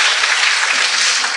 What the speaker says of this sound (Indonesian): Ya wis, tepuk tangan aja.